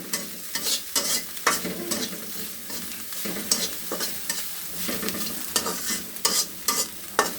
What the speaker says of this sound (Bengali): তো ভেজে নিচ্ছি চিংড়ি শুটকি।